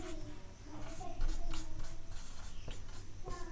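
A chemistry equation is written by hand in a run of close, scratchy strokes and taps, with brief pauses between marks.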